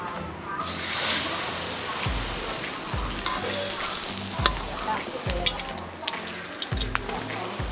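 Fish simmering in a pot of water during Thai cooking at Ban Nam Chiao, a steady bubbling and sizzling hiss close by, with low thumps and a voice talking over it.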